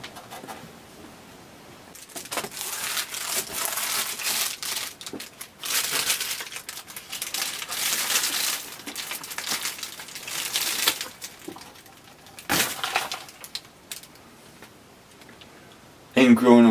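A castor bean plant being torn out of a garden, with loud rustling, crunching and snapping of leaves and stalks in long bursts, close by.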